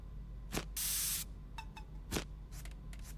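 Oil sprayed onto a gun at a cleaning station in Into the Radius 2: one sustained hissing spray burst lasting about half a second, framed by short clicks and handling knocks, with no talk.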